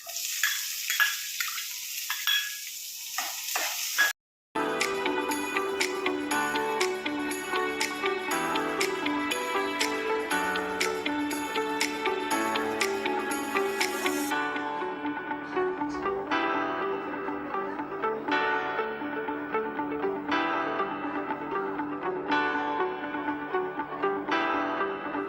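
Onion stir-frying in hot oil with ginger, garlic and green chilli for soybean chilli, a continuous sizzle with scraping stirs, briefly cut off near the start, then quieter and thinner toward the end.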